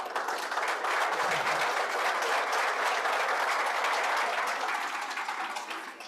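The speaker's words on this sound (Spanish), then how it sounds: "Un aplauso para ellos," Audience at a book launch event applauds the club's founding members, a dense, steady wave of clapping that stays loud and even throughout before easing slightly at the end.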